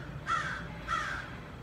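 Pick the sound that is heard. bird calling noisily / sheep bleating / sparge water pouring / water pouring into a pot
bird calling noisily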